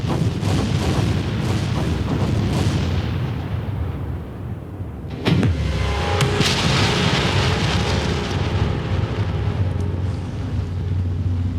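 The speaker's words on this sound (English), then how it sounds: "There's the video of the explosion again." A massive asteroid chunk explodes in the space game EVE Online, a deep rumbling buildup that fades, then a loud booming blast around the middle followed by a long, heavy roaring rumble that trails off.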